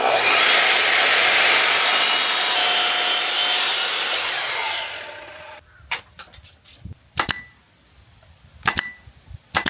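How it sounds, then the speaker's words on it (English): Wooden deck stair riser boards being cut to fit, a loud continuous saw cut for about five seconds that stops, followed by a few sharp knocks and thumps of boards being handled. "cutting each riser board almost custom"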